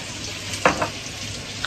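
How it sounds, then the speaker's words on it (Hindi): Chicken frying in hot oil gives a steady close sizzle, with a couple of brief sharp clatters of stirring near the middle and no voices. "ये हो गया पूरा चिकन फ्राई"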